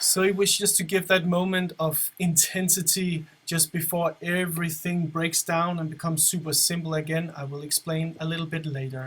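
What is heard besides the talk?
No everyday noise stands out behind the speech.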